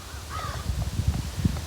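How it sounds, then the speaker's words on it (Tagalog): Crows cawing close by outdoors, a quick cluster of harsh overlapping caws repeating in rapid succession. "Yung mga uwak."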